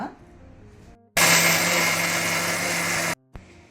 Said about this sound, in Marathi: ह्यो आळ्यानाच्यो वस्तू आमी आतां मिक्सरान घालून बरें कणगंद वाट्या